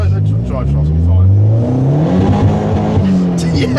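Engine of a VW Fox GTI revving hard in a first gear pull, a loud rising drone with harmonics climbing steadily, close and continuous, with people talking over it.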